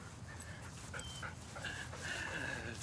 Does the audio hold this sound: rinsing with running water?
no